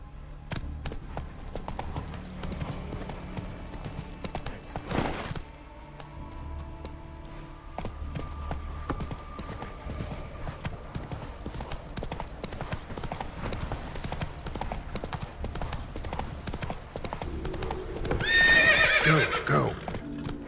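Hooves of the horse Roach clip-clop steadily at a gallop in The Witcher 3: Wild Hunt, with a loud neigh near the end over continuous game ambience.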